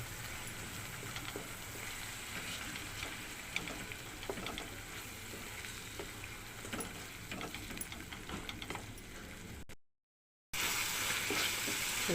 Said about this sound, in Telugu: ఇప్పుడు ఇందులో మనం కొంచెం పసుపు, సాల్ట్ కూడా వేసేస్తుంది. ఇంకా స్పీడ్గా వేగుతుంది.